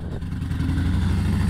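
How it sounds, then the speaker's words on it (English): A 2020 custom preowned Harley-Davidson Low Rider rides along the road, its engine producing a steady, close, low rumbling drone with no talk. "let's get out on the road. This is just a super fun bike to ride."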